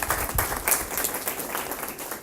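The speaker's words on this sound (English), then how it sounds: "round of applause" Conference audience at a social media lunch event clapping, a brief burst of moderately loud, even applause.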